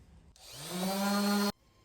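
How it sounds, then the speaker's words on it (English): An electric sander glides lightly over an old table's painted surface with fine 240-grit sandpaper, starting with a rising whine that settles into a steady buzzing hum for about a second before cutting off abruptly, close and loud. "I'm not pressing down on my sander. I'm just gently gliding it across the surface."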